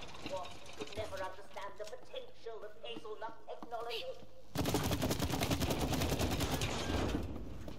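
Rapid automatic gunfire in the video game It Takes Two, a dense loud burst taking over after a stretch of game sounds and talk.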